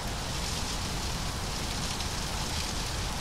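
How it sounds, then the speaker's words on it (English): Heavy rain drums steadily on an A320 airliner in Microsoft Flight Simulator, a dense, even hiss that never lets up, with no speech heard. "Wow, we are seriously getting some rain."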